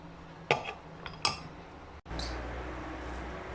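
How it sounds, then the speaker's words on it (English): Lid being put on a digital tea pot, two light clinks and taps close by, then a click followed by a soft steady hum. "And I'm going to turn the lid on."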